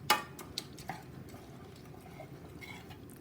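Spoon stirring rice into a Mexican casserole mixture in a pan, with a few faint clinks and soft scraping at close range before a quiet stretch, no voices.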